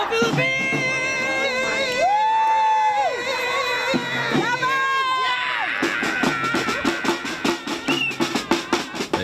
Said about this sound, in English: those cheering on the Philippines are making their presence felt